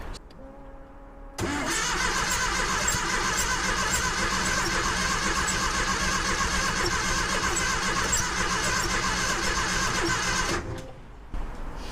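A Porsche 914 engine fitted with dual Weber carburetors cranks and catches, then runs continuously at a rough, loud idle for about nine seconds before cutting off, close by.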